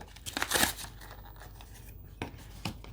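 Trading card booster tripacks being torn open, with crinkly tearing and rustling of foil wrappers in short bursts, one louder rip near the start and a couple of sharper tears later, close up.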